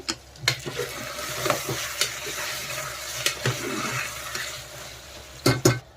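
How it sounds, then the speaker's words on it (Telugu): Mutton cooks in hot oil in a pan, a moderate sizzle broken by intermittent scraping stirs and sharp metallic clinks of a spoon against the pot, with a louder clatter near the end. "ఇప్పుడైతే ఐదు నిమిషాలు నూనెలో ఉడికేసుకుందాం"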